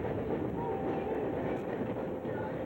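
The Norfolk and Western Cannonball passenger train rolls steadily along the rails with a dense, continuous rumble and faint wheel clatter, heard from close by without any talk.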